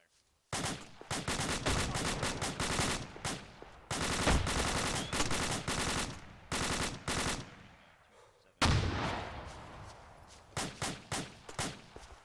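Video game rifle fire in POFT Platoon Operations Fireteam 2, several long rapid automatic bursts of gunshots, loud and close, separated by short pauses with a final sustained burst trailing off.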